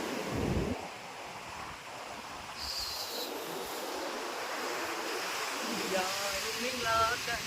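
Sea waves roll and wash continuously on Kovalam beach at night, with wind buffeting the microphone, a broad steady roar close by and a faint tonal sound near the end.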